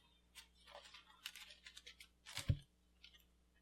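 Magic: The Gathering cards being shuffled by hand, a quiet run of soft riffling clicks and flicks ending in a sharper snap as the deck is squared, close and faint with no talking.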